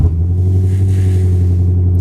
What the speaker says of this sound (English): So we'll start the car up and get going.